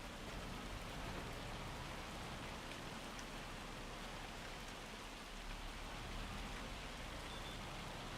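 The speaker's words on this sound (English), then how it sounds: "Bad idea doing it in the rain" Steady rain falls in Farming Simulator 25, a dense, even hiss of drops that continues unbroken at moderate level with no talking.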